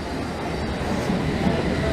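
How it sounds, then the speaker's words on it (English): A London Underground Metropolitan Line train arrives at Euston Square station: a loud, steady rolling rumble of wheels and carriages with a faint metallic squeal. No one speaks. "a Metropolitan Line train to Aldgate is arriving on the other platform."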